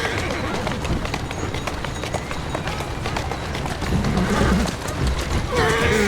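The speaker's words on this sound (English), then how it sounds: "Who's a good horse?" Horse galloping in the video game Assassin's Creed Syndicate: rapid hoofbeats drum steadily under street ambience, then a brief neigh rises near the end.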